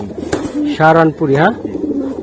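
Pigeons at a pigeon market give a couple of loud, close, throaty cooing calls over a light background of faint chatter.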